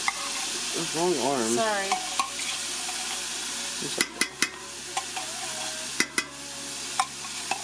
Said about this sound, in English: Let's stir it all up so that it makes like a paste, like a gravy.